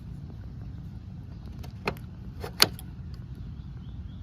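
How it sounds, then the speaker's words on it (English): Folding pedals on a Nakto Ox folding fat-tire eBike are tucked away, giving a few sharp plastic and metal clicks, the loudest near the end, faint and close over a quiet background. "You can stow these pedals."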